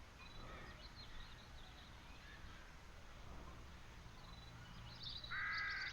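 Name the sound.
crows cawing in The Dark Eye: Chains of Satinav video game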